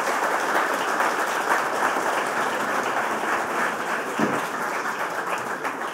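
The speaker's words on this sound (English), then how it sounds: "let's give a big round of applause for Rami Ismail" Steady, dense applause from a large audience at a game developer conference keynote, continuous and fairly loud throughout without pauses.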